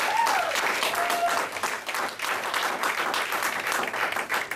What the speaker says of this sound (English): Give them a goddamn round of applause